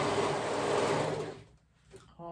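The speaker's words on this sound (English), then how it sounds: "sewing that skirt and bodice together at the raw edges" Sewing machine stitching a skirt to a bodice along the raw edges for a twirly dress, a loud steady whirring drone that stops abruptly partway, followed by a brief quieter mechanical sound.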